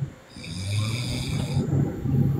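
A person snores with a rough, rasping, continuous drone that swells after a short quiet dip at the start. It sounds close and moderately loud, with no talking.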